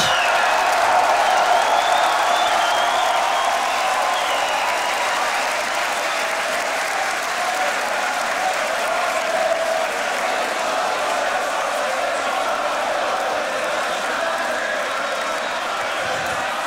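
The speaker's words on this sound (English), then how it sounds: "Give it up for Collapse." Loud, sustained applause and cheering from the audience at the Grand Beatbox Battle 2021 World League quarter final, a dense, steady roar of clapping and shouts that fills the whole stretch without letup.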